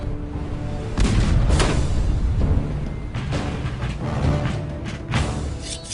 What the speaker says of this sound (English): ships in the harbor try to pin down the militia with cannon fire.